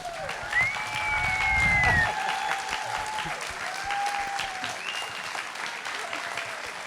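A film festival audience at a Q&A for The Piano Lesson applauds warmly to welcome actress Danielle Deadwyler, steady clapping swelling early, mixed with high whoops and whistles that continue as the applause carries on.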